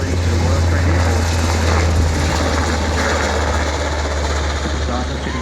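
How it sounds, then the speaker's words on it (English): A P-8A Poseidon maritime patrol aircraft, a modified 737 airframe, flies past at an airshow: a loud, steady jet engine roar with a low rumble, while a voice narrates over it. "The P-8A Poseidon may look like a 737 airliner, however it's a highly modified airframe"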